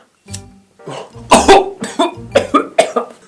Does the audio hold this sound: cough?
yes